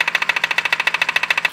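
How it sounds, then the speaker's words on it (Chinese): A BMW engine with a worn crankshaft belt damper knocks loudly and steadily, about eleven sharp, evenly spaced raps per second, close up with no talking. "损坏之后它就有间隙就会敲击声"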